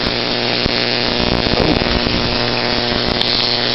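A Tesla coil hairpin circuit with spark gaps runs with a loud, harsh, continuous buzzing crackle, steady and close, with a strong electrical hum underneath.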